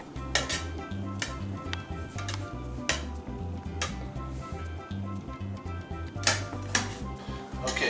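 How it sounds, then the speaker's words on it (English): Shrimp being cut in a kitchen: repeated knife taps and clinks of utensils against dishes and a cutting board, irregular and close. "We cut the shrimp."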